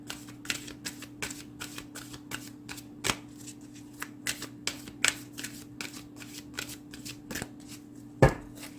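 A Duguay tarot deck being shuffled by hand, a run of crisp riffling card bursts and slaps repeating across several seconds, close and clear with no talking.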